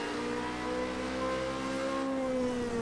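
A Formula Renault race car engine drones under gentle throttle on snow, a steady rising harmonic whine held close and even with no talk.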